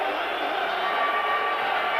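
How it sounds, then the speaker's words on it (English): A big, noisy stadium crowd at a 1993 football match between Club Brugge and Rangers makes a steady, dense roar of many voices throughout, with no single shouts standing out. "So a big noisy crowd here."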